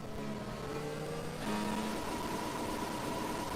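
Racing-game car held in neutral with the engine revved near 13,000 RPM, a steady whining engine tone that jumps higher partway through and holds, quiet and alone.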